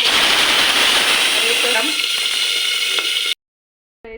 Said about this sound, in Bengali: মাছ ভাজি হয়ে গেছে তো এতটাই ফুটছিল যে মাছটা ভাজা আমি ভালো করে দেখাতে পারি নাই